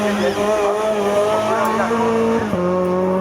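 Race car at the 2019 Graulhet hill climb, its engine holding a loud, steady harmonic drone that shifts pitch with a sharp gear change near the end, close and continuous.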